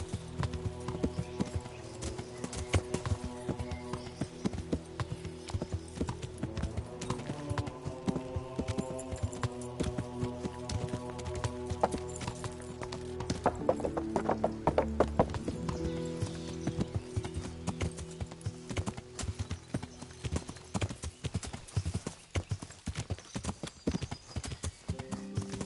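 Steady rhythmic clip-clop of horse hooves from the video game Kingdom Come: Deliverance continuing throughout, over a background of game music with sustained tones.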